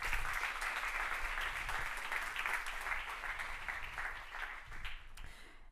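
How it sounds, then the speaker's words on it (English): A conference audience at a 2024 awards event gives a steady round of applause, dense clapping that holds at moderate volume for several seconds before thinning out. "Another round of applause, please."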